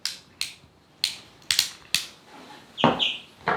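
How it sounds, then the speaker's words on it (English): The turning knob on a Kmart Anko wooden toy blender gives a series of sharp, close clicks at irregular intervals, about seven in all, with a slightly longer rattling click near the end. "It makes this clicking noise when you turn it."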